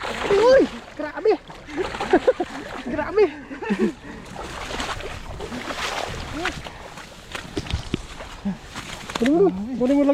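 Large tilapia thrash and splash repeatedly in water close by, sharp bursts of splatter coming in irregular clusters beneath excited voices talking throughout.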